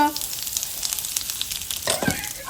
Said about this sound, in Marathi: तर मी आता ती फोडणी बनवते